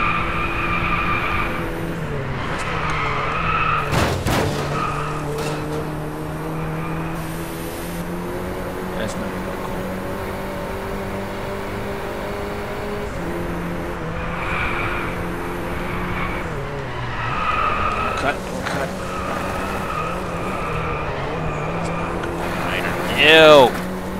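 A Ferrari LaFerrari driven in the racing game Driveclub, its engine droning steadily with gear-change shifts and tire skids, under someone talking over it throughout, with a brief squeal near the end.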